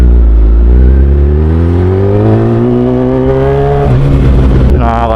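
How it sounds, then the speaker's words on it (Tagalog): A motorcycle engine revs up steadily at close range, its pitch climbing, then drops and surges again near the end. "Tunog ng motor? Okay lang ba?"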